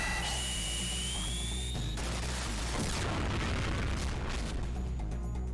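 A deep boom from the Ray Bomb explosion attack in Final Fantasy VIII swells into a loud, rumbling roar that fills the second half, following a steadier tonal stretch.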